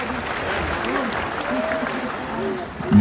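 Sustained applause from a crowd at a Democratic Party installation ceremony in Central Java, dense and even throughout with voices faintly mixed in.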